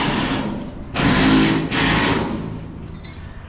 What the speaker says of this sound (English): With his grease gun, okay?